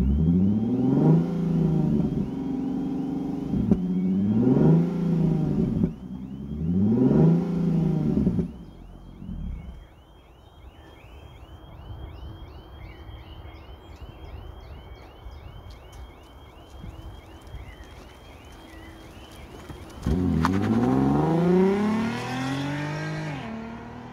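A 2016 Infiniti Q50S AWD with a 364 hp engine rises through three loud revs in quick succession. It then settles into a steady idle with chirping in the background, and one more loud rev comes at the end.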